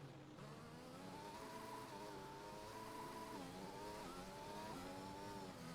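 Several racing-game cars in a Spanish Grand Prix round drone with high, layered engine tones that rise and dip together, held steadily at moderate distance, with no voices heard.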